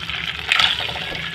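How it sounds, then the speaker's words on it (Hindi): Soaked tamarind poured into a cooking pan holding cumin, curry leaves and a little water for sour potatoes, making a brief, fairly loud watery splash and rush, heard alone. "अब हम इसमें डालेंगे इमली"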